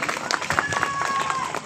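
At a village welcome where local leaders are garlanded, a crowd claps in scattered, uneven bursts beneath a talking voice, with a faint electronic tone in the background.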